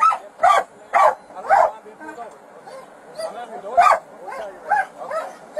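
A police canine at a sheriff's office felony traffic stop barks repeatedly in loud, sharp bursts, about eight to ten in a loose rhythm, with some whimpering yips between.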